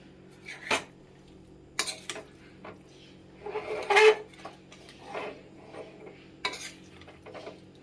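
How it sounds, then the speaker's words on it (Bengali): Kachki fish being gently stirred in a cooking pan for a bati chorchori: a handful of separate scraping and clinking utensil strokes against the pan, moderately close, with quiet pauses between and no talking. "এবার এটাকে হালকা হাতে একটু নেড়ে দেবো"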